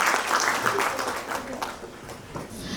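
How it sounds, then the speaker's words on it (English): An audience at a Kolkata jubilee event applauds a group of young Green Scouts with dense, sustained clapping that slowly fades, and a voice is faintly mixed in underneath. "A big round of applause, ladies and gentlemen,"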